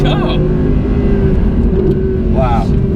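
Inside a 2018 Audi R8 V10 Plus on a race track, the engine makes a loud, steady droning roar with a constant tonal hum that fills the cabin throughout.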